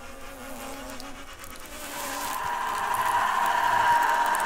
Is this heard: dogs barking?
no